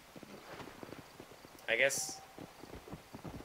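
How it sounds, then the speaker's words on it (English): A horse gallops in Red Dead Redemption while spurred faster, a quick steady clip-clop of hooves running under someone talking, with a brief bright jingling burst partway through. "just spur your horse and move faster"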